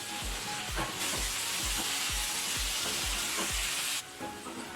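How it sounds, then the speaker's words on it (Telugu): Pieces of okra (bendakaya) frying in oil for a masala curry, giving a dense continuous sizzle with a regular run of low thuds from stirring, loud and close, with no voices. "బెండకాయ ముక్క సగం వరకు మగ్గేటట్టు వేయించి పక్కన తీసి పెట్టుకోవాలండి"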